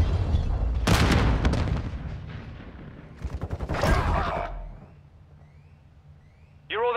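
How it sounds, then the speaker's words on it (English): Heavy booms and rumbling blasts of an incoming hostile cruise missile strike during a bomb-planting round of a shooter video game, two big loud bursts with crackling gunfire-like decay, then a quiet tail. "Hostile cruise missile incoming."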